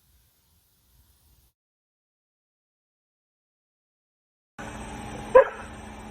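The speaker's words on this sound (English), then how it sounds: "Stop barking, bud. What's wrong?" After near silence, a hiss of background noise starts and a single short dog bark sounds, fairly close, outdoors at night on a fishing trip.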